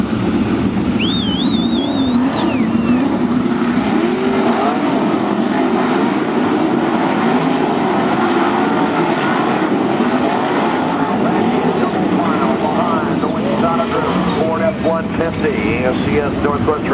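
Sprint cars in an ASCS Northwest Region feature race at Willamette Speedway, a dirt oval, roar steadily throughout, engines loud and continuous with fluctuating pitch as they pass.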